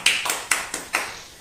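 A few sharp, separate claps ring out in a short, uneven burst at a poetry recital, close and fairly loud, with no crowd roar behind them.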